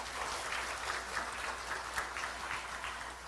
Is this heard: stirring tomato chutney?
no